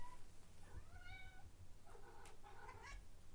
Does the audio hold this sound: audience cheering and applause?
no